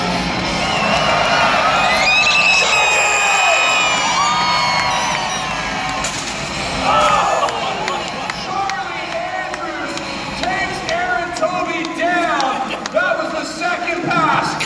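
Crowd cheering and whooping at a jousting tournament, a dense, sustained roar of many voices with shouts rising and falling throughout, steady and loud.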